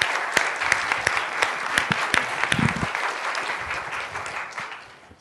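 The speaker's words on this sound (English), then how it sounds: "big round of applause for him" Steady applause from a lecture audience fills the room, dense clapping with sharp individual claps standing out, then tapering off toward the end.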